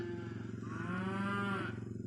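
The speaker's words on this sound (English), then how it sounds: "here's how you get the old stubborn cows in" A stubborn old show cow lets out one long, drawn-out moo close by, steady and low against a constant background hum, with no talking.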